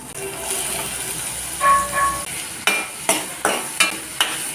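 Onion and brinjal sautéing together in a pan, a soft sizzle under a series of sharp, regular spatula scrapes and taps against the pan in the latter half.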